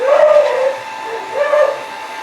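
A dog lets out two short whiny yips or barks at a cat indoors, close and fairly loud, with a brief pause between them.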